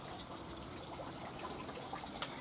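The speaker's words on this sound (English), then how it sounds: "The water butts are overflowing, and the plot is, I think it's fair to say, flooded." Rainwater spills over from water butts on a flooded allotment, a steady faint gushing and trickling with small splashes, no voices.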